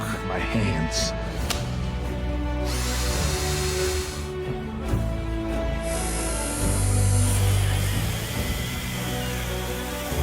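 A cordless drill-driver whirs continuously in a Lidl television advert, loud and steady for about ten seconds with shifting pitch, amid other workshop noise and no speech.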